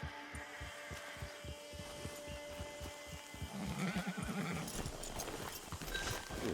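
Steady clip-clop of horse hooves at a trot, followed by a whinnying neigh over a rumbling background, from the video game Red Dead Online.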